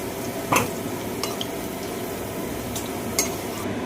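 Potatoes for a fish curry fry in oil with a soft steady sizzle, while a utensil scrapes and taps the pan a few times.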